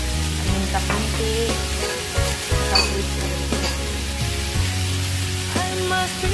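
Pork and capsicum fry in a pan with a steady, loud sizzle, while a utensil stirs through them in a few scraping strokes; nobody speaks.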